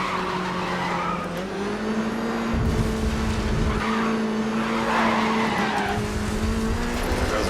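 A race car in Grid Autosport's open wheel challenge slides sideways, its engine note held steady and loud with tyre skidding layered over it, continuous throughout with no talk.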